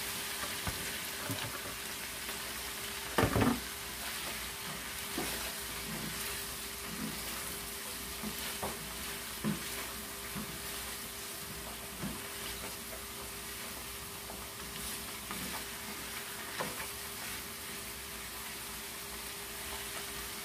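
Pork leg meat fries in a pan with a soft, steady sizzle and occasional stirring scrapes, one louder clatter near the start.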